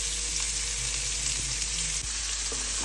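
Onions fry in mustard oil in a wok, a steady close hissing sizzle that continues without a break over a low constant hum, with a couple of faint knocks and no talking.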